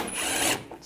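A ratchet wrench tightens bolts on a 2014-2019 Toyota Corolla during a hood release cable job, with a quick burst of close mechanical clicking lasting under a second.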